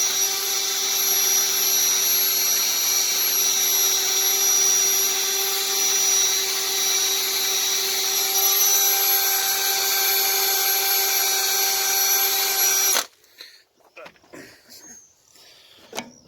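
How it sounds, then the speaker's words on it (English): A steady high-pitched electric drill whine, polishing an alloy wheel, runs loud and continuous for about thirteen seconds, then cuts off abruptly, leaving quieter handling noises. "Sorry about the noise of the drill."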